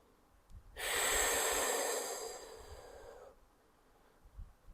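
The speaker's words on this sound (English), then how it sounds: "Take a nice big deep breath." A single deep breath is drawn during a pilates shell stretch: a broad, airy exhale lasting around two and a half seconds that starts abruptly and fades gradually. It is close and fairly loud, with quiet room tone before and after.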